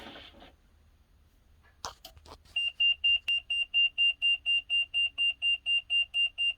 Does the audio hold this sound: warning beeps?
yes